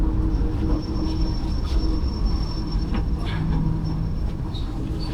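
The JOGLOSEMARKERTO passenger train arrives at Weleri station, with a steady loud rumble of wheels and carriage noise and a faint high squeal running through, no voices.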